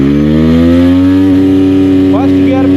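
A TVS Apache RTR 160 4V motorcycle revs loudly in first gear, its exhaust note climbing steadily in pitch from very close by, with a brief voice cutting in near the end.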